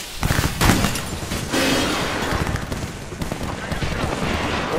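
Gunfire in the video game Apex Legends comes as loud bursts of rapid automatic shots and single cracks that follow one another over a few seconds in a busy firefight.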